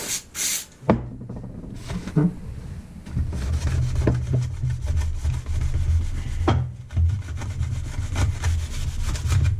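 Parts from a 1985 Mustang GT T-top are scuffed by hand with repeated rough rubbing strokes, close and fairly loud, in steady back-and-forth bursts after a few brief knocks.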